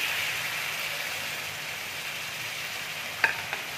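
Spice masala with turmeric frying in a pan, a steady close sizzle with soft stirring, then two sharp utensil clinks near the end.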